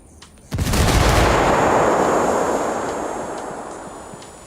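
A thrown grenade bursts in a Ghost Recon Wildlands firefight, a sudden loud blast followed by a long rumbling roar that slowly fades, with faint gunfire crackling in the background.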